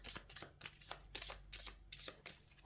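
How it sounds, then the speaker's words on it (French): A deck of board game cards being shuffled by hand, a quick run of crisp riffling bursts in steady rhythm, close and quiet with no talk. "on va mélanger le paquet des cartes départ"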